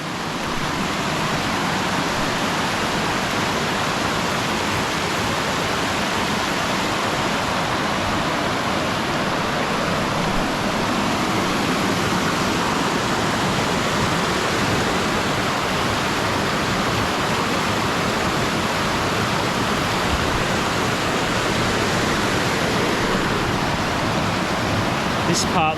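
Fast-running, flood-swollen river water at a waterfall campground, a loud continuous broadband rush and roar of water, close and unbroken throughout.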